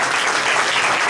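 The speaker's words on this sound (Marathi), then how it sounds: "टाळ्या वाजवून प्रभूला धन्यवाद देऊया." A church congregation claps loudly in praise at an Easter Sunday service, a dense, close, continuous burst of many hands with no voices heard over it.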